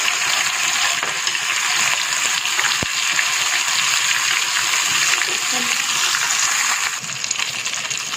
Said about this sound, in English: This way I'll fry all the pieces of basa so that I can use them directly